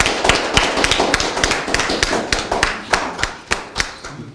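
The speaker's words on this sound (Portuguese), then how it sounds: "forte aplauso para nós" Scattered hand claps from a small group at a Portuguese-speaking gathering, a committee acknowledged, sparse and uneven, individual claps standing out close by rather than a full ovation.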